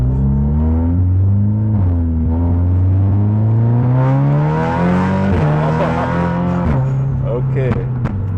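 A 500+ hp Audi S3 accelerates hard in a second gear pull, its engine note loud and rising steadily from inside the car, then dropping briefly as it shifts near the end.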